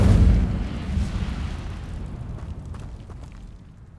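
A fiery Incendio spell bursts from a wand in the game Hogwarts Legacy, a loud booming whoosh at the start that fades into a long rumbling tail.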